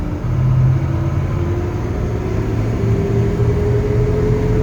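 A 1972 Chevy C-10 4x4 pickup with a four-speed manual pulls away in first gear, its engine a steady low rumbling drone heard from inside the cab, loud and continuous with no talk.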